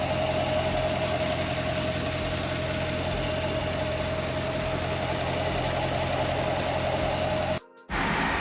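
A 2020 Chevrolet Corvette Stingray 3LT idles with a low, even hum and a steady droning tone. Heard from a modest distance, it holds constant until a brief dropout just before the end.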